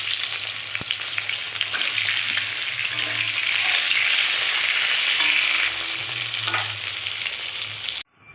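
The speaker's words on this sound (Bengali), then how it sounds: "ওই তেলে আমি একটু বেগুন ভেজে নেবো" Eggplant fries in hilsa fish oil, a loud continuous sizzle close up with faint stirring, cutting out abruptly at the very end.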